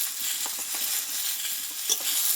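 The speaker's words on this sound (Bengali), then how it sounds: "দিয়ে এবার আমি একটু নাড়াচাড়া করে দেবো এইভাবে" Pointed gourd with salt, cumin, coriander and turmeric powder gets stirred in a pan, a brief soft sizzle with light scraping strokes, close by and without speech.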